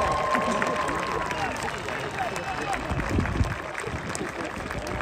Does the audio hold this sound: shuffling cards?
no